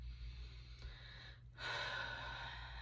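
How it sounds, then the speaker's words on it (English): One quiet, slow deep breath drawn in during a calm meditation session, a soft airy inhale that swells midway and holds steady to the end. "let's take a deep breath here"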